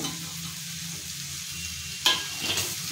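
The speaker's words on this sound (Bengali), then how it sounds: "2 মিনিট চাপা দিয়ে কুক করার পর একটু নাড়াচাড়া করে আমি এবার দিয়ে দিচ্ছি টমেটো" A vegetarian drumstick vegetable curry is stirred in a pan after tomatoes go in. Soft sizzling runs underneath, a sharp clatter of the spoon against the pan comes near the end, and a few quieter scrapes follow.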